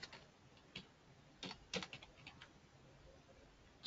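Sparse keystrokes on a computer keyboard while code is typed, a few scattered taps and short bursts, quiet and close with no talking.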